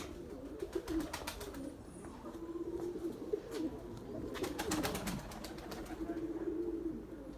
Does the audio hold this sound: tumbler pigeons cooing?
yes